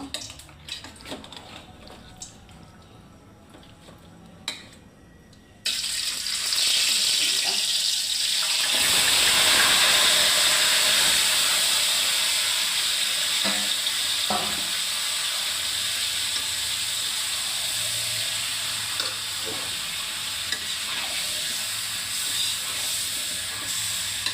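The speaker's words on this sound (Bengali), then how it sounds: "কড়াইতে তেল দিয়ে দিয়েছি, এখন মাংসগুলো দিয়ে দিব" Chicken meat drops into hot oil in a wok, starting a sudden loud, steady sizzle that swells then holds, after quieter kitchen sounds.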